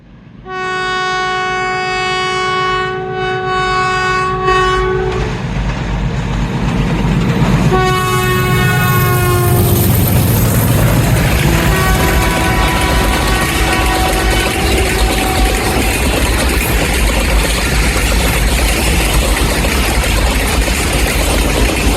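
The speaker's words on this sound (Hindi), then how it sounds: "तो ये आ रही है 47 अप रहमान बाबा एक्सप्रेस।" The 47 Up Rehman Baba Express arriving at Kaluwal station, led by a PHA20 locomotive, sounds long loud horn blasts, then a shorter blast and a later softer horn, as the heavy rumble and rattle of passing coaches builds and rolls on close by.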